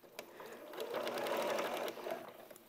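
A sewing machine runs steadily as it stitches through fabric, the fast mechanical whir rising after a few brief starts and holding for over a second before slowing, close and moderately loud with no talk.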